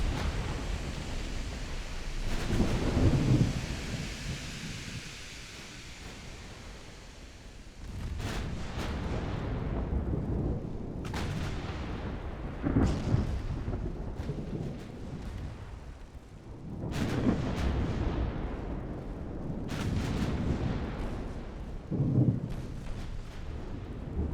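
Stormy, rainy weather at sea in the naval strategy game Ultimate Admiral Dreadnoughts: a steady rushing roar of wind and rain, broken by several deep rumbling booms like thunder or distant gunfire, with no talking.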